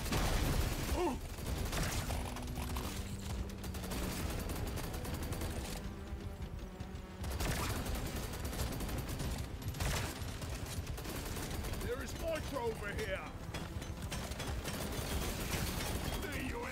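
Rapid, dense gunfire from the coil gun in Deep Rock Galactic: Survivor rattles on almost without pause, mixed with game effects and a brief lull partway through.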